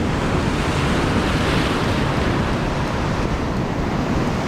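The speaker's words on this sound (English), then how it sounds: "I'm gonna get splashed with these big waves" Big ocean waves crash and surge nonstop on an Australian fishing shore, a loud, dense roar of surf mixed with wind buffeting the microphone, with no voices over it.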